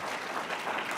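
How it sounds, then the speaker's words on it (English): An audience at a women's economic assembly applauds, a brief spell of steady, dense clapping. "I'd like to applaud you and thank you for having had that foresight"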